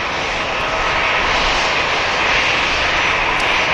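A Vamos airliner begins to taxi at Manchester Airport, its engines giving a loud, steady broadband roar that sits close and unbroken, with no voices over it.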